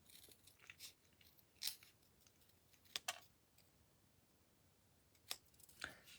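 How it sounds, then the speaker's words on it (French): Scissors snip through paper while cutting out a greeting for a handmade card, with several short, crisp cuts spaced irregularly and heard up close against a quiet background. "Découper les vœux comme ça."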